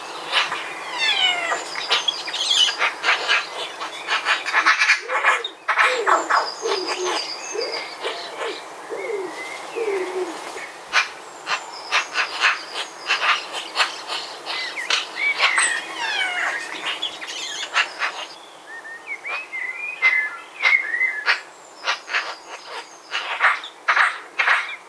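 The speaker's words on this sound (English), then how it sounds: "we heard a magpie chattering," A magpie chatters in rapid, harsh rattling bursts, loud and close, repeating over and over, with other birds calling around it outdoors.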